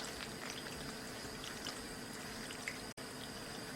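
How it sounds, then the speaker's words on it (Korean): Broth for shabu-shabu heating in a pot, a soft continuous bubbling and liquid hiss, quiet and steady with one brief dropout near the end. "육수를 부어서 이제 끓여주겠어요"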